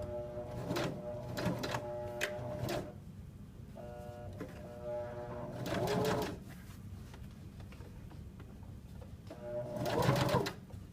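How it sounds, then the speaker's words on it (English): A sewing machine stitches a zipper onto a sweatshirt with gray thread, running in several short bursts of rapid mechanical whirring separated by pauses, with quiet background sounds between runs. "So now I'm going to start sewing with a gray thread instead of a yellow thread like I did on the bottom."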